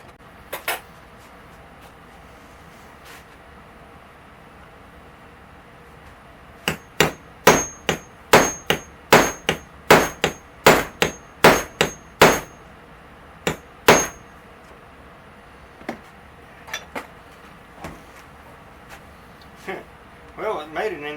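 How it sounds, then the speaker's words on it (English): A hammer strikes a Jaguar's metal door panel in a quick run of sharp, ringing clangs, then slows to scattered lighter taps against a low background hum. "I'm going to have to find a bigger hammer."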